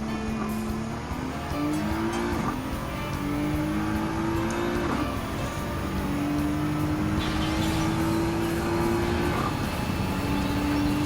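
A Nissan GT-R R35 race car in Gran Turismo 7 drones steadily through its gears, engine pitch climbing in repeated shifts with faint tire noise underneath, heard alone without talk.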